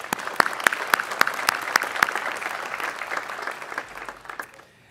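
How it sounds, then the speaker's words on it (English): A university commencement crowd applauds steadily with sharp individual claps standing out, the clapping thinning and tapering off toward the end. "so let's give them a round of applause"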